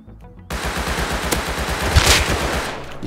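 Rapid automatic gunfire from the survival video game Rust rattles out in a fast, continuous burst that starts abruptly and stays loud and close, with no voices over it.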